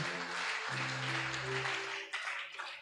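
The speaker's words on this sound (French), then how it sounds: "Acclame très fort le Seigneur Jésus." A church congregation cheers and applauds for Jesus, a dense, steady wash of clapping and shouting throughout, with sustained tones from music or voices underneath that drop briefly partway through.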